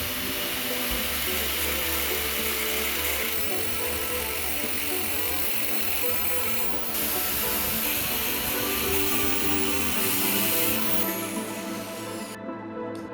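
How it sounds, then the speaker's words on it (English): Angle grinder cutting along the weld lines of a microwave oven transformer's steel core, a steady loud grinding whine that holds almost unbroken for about thirteen seconds, with shifts in pitch as the disc bites. "We'll use an angle grinder for this."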